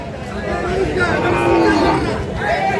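Deshal-breed bulls mooing at the Khochabari cattle market in Thakurgaon district, where cattle are bought and sold. The lowing blends into steady crowd chatter and market noise throughout.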